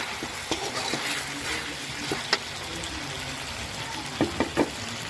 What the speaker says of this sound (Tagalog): Haluan-haluin natin kabetya.